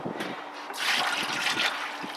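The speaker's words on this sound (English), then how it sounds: "Throw a little more water in there." Water pours and splashes over a whole chicken in a container for brining, a close, steady gush that swells midway with trickling and dribbling around it.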